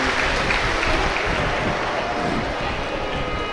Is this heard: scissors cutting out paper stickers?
no